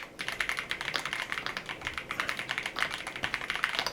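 Rapid typing on a G-Rule hi-fi sound switch keyboard, a steady stream of crisp, fairly quiet clicks close up with no voices.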